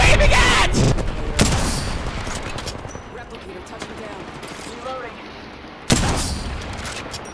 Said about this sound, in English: I'm just having fun shooting at them.